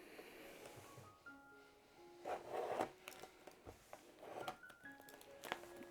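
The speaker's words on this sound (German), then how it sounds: "Machen wir mal die Folie auf." Plastic foil wrapping on a Diamond Art Club diamond painting kit box is torn and peeled open, a quiet close crinkle with short rustling bursts and scratchy rubs.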